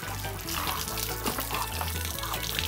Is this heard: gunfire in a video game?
no